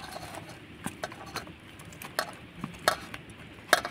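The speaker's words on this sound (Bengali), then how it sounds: "এবার হাত দিয়ে চটকে মেখে নেব।" Boiled raw jackfruit and potato being mashed by hand in a bowl: soft, close squishing and pressing with irregular light clicks and taps of the bowl, fairly quiet and steady.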